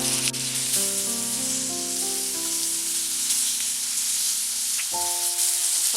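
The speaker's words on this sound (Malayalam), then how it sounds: "എണ്ണ ചൂടായിട്ടുണ്ട്. ഇതിലേക്ക് ഈ ചിക്കൻ്റെ പീസസ് ഇട്ട് കൊടുക്കാം." Chicken pieces hit hot coconut oil and sizzle steadily and close for several seconds, with sustained background music tones running underneath.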